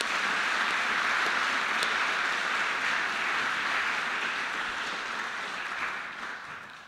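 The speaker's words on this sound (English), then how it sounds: "So I'd like to give a big round of applause for our panel members for speaking up tonight." Audience applause at an evening panel discussion on the Indigenous Voice to Parliament, a steady, dense wash of clapping from many hands that fills the room for about seven seconds before slowly tapering off at the end.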